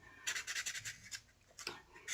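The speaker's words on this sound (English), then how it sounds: "These little sanding pads make really quick work of small tool marks" A small squishy sanding pad rubs over a wire wrap cabochon pendant, quick rapid rasping strokes in bursts, close and faint, with a brief pause before a final few strokes.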